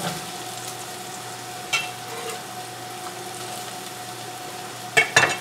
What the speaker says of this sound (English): Stir my onions. I'm going to add the mushrooms, let them cook a little bit, add the squash.